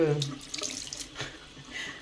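Water runs from a household tap into a sink with a steady splashing hiss, close and moderately loud, with a voice briefly audible.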